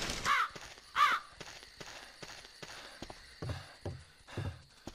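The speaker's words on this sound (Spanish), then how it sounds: "¡Cállate, estúpido cuervo!" Two sharp, loud caws from a crow in the zombie game Land of the Dead, followed by quieter scattered thumps and footstep-like clatter.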